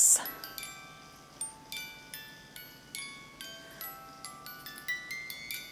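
A repaired, previously overwound music box plays a delicate tinkling melody of plucked metal comb notes, faint and close, after a brief clunk at the start, with soft ticking between the notes.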